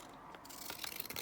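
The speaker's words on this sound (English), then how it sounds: "I'm just going to snip off this edge to neaten it up a bit" Scissors snip along the edge of a sheet of vintage ephemera paper, several quick faint crisp cuts close by in a quiet room, with no voices.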